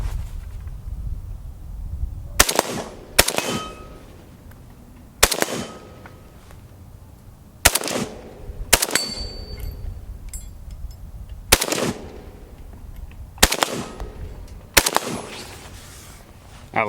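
Century Arms RAS-47 AK-pattern rifle fired outdoors, sharp loud shots in quick pairs and short bursts separated by pauses, each crack ringing out with a brief echo.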